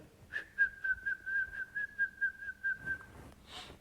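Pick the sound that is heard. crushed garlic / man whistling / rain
man whistling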